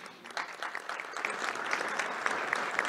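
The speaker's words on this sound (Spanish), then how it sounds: "un aplauso para Joaquín" An audience applauds a remote speaker at a presentation on a connectivity model, a steady, fairly faint patter of hand claps that carries on alone for the full few seconds.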